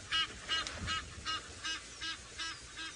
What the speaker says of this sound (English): And there's the noisy geese just to the